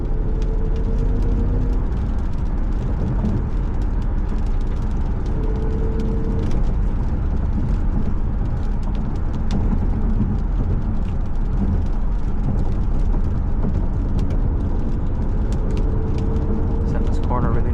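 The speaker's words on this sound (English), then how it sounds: "You can hear that V10 rumble though." An Audi S6 with a V10 engine rumbles deep and steady while driving, with road and cabin noise throughout, someone talking over it, and a few rising pitch sweeps as it accelerates.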